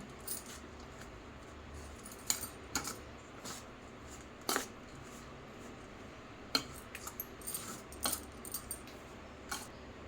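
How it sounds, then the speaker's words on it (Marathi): Powdered sugar and milk powder being mixed in a bowl for homemade kaju modak: quiet, scattered clinks and scrapes of a spoon against the bowl over a faint, steady background. "पिठी साखर टाकूया त्याच्यानंतर मिल्क पावडर टाकूया चांगलं मिक्स करून घेऊया"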